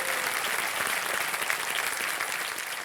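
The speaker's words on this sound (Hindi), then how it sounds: "तालियों के साथ इनका स्वागत है।" Studio audience on the KBC quiz show applauding to welcome a contestant, sustained dense clapping that fills the room evenly at full volume.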